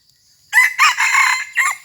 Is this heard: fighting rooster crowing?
yes